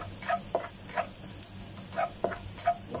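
Garlic fries in a pan with a steady sizzle, broken by several soft stirring taps and scrapes at a slow, uneven rhythm, heard close and alone.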